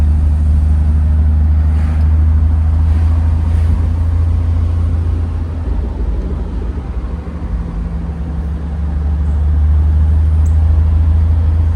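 A 1968 Mercedes 280 SL is driven, with a steady low engine drone and road noise inside the car that eases slightly midway and then builds again.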